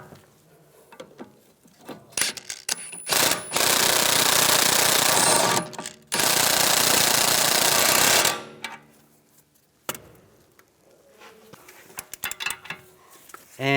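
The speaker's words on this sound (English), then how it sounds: "I'll tighten this down." A ratchet or power tool tightens the nut on a sway bar link of a 2001-2006 BMW 325Xi, with two long, loud, steady bursts of harsh mechanical noise between clanks and brief rattles, close up and without talk.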